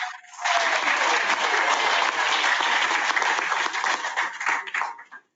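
Steady applause fills a city commission meeting room in Boynton Beach, a dense wash of clapping that holds for about five seconds before tapering off and stopping abruptly.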